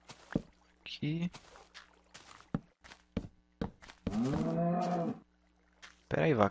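A Minecraft cow moos in a long drawn-out low call amid blocky game footsteps and placement thunks, with a player speaking between the sounds.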